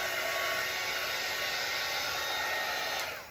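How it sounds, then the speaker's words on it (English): A hair dryer running nearby while painting on a 16x20 canvas, a loud steady whirring blow with a constant motor whine, unbroken and alone until it starts to fade at the very end. "Making sure I don't talk while the dryer is on."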